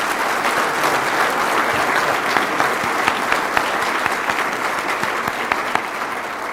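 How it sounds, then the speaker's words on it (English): Sustained audience applause at a 2004 Distinguished Principal Award event in Washington DC, a dense, steady wash of many hands clapping with a few sharper individual claps standing out, loud and alone without talk. "Let's give him another round of applause"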